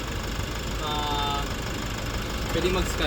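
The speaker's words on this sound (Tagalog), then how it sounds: "so kanina pa umaandar yung makina, naririnig ko" A Nissan Navara 4x4 pickup engine idles steadily at an auction lot, a continuous low rumble close by under a voice.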